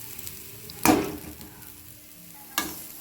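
Ginger fries in a pan for chutney with curry leaves, giving two sharp bursts of sizzling as it is stirred, the first louder and longer, over a quiet, faint background frying hiss.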